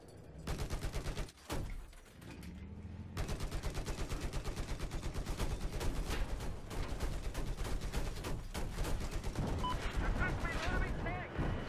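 Rapid automatic gunfire in Battlefield 4, loud and sustained in dense bursts with a brief pause near the start, mixed with game explosions and battle noise.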